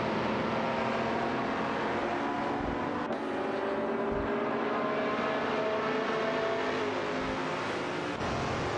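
Race car engines in a video game racing simulation roar steadily, with a dense, continuous drone of several cars revving together at close range and no voices.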